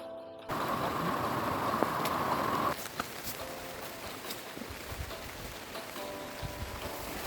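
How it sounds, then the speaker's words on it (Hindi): Heavy rain falls on a forested hill trek to a fort in the Melghat hills, a constant hiss with faint patters and a steady mechanical hum in the background. "बारिश"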